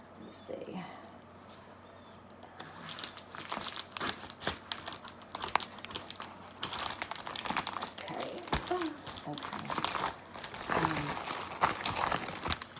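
Crinkling and rustling of packaging envelopes as they are handled and opened during the unboxing of a small bag charm keychain, the crackles close and continuous under intermittent soft speech.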